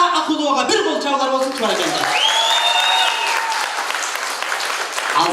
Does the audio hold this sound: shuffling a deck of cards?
no